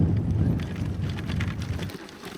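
Strong desert wind buffeting close by, a steady loud roar with gusty low rumble that eases slightly near the end, alone without talking.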